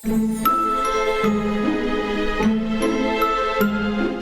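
A tinkling, music-box-like tune of chiming notes repeats in a gentle looping pattern, bright and steady with no talking.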